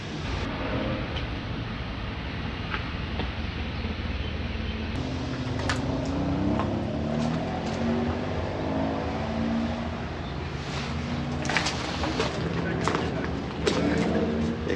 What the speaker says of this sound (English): Here comes the Aston that we heard starting up a minute ago. Beautiful sound to it.